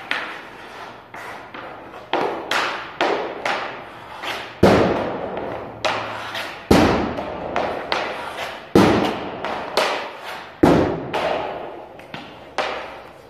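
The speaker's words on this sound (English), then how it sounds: "First, let's start with the old wrist shot," A Verbero Mercury V350 composite hockey stick fires repeated wrist shots, each a sharp loud crack of blade on puck followed by a short rattling echo, about a dozen strikes at a steady rhythm.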